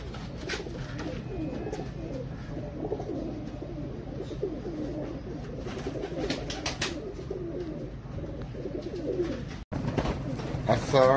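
Pigeons cooing continuously, several birds close by, their soft rolling coos overlapping in a steady murmur.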